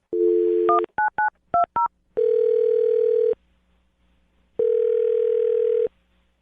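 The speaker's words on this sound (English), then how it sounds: "I'm going to dial his phone number right now" A landline telephone dials out: a short run of touch-tone DTMF beeps in quick bursts, followed by two long, steady ringback tones separated by silence, clear and close.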